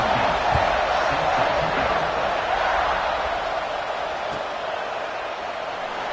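A stadium crowd in an NCAA football video game buzzes with a dense, continuous roar after a score, holding steady with only a faint thump partway through.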